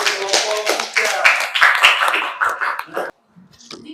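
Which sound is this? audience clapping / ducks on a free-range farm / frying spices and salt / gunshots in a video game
audience clapping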